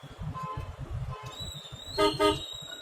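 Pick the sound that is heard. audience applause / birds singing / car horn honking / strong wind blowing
car horn honking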